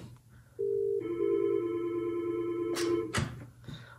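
A Yealink T46 desk phone dials a number from a hotkey, with a short tone, then a sustained multi-tone dialing signal lasting about two seconds, followed by a couple of sharp clicks, close and clear, no speech.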